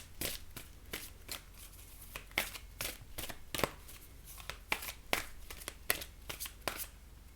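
Oracle cards being shuffled and pulled make a run of quick, close riffling bursts in an uneven rhythm, with soft hand rustles between them and nobody talking.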